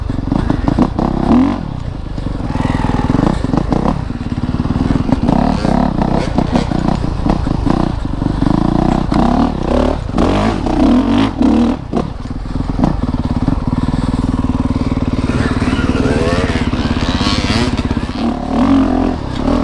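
A 2019 Honda CRF450RX dirt bike is ridden off-road, its engine loud and close as it revs up and drops off again and again, with clattering and scraping from the terrain and no talk.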